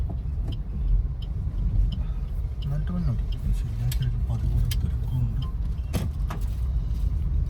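A car driving along a road, engine rumbling low and steady, with rattles and clicks inside the cabin and people talking over it.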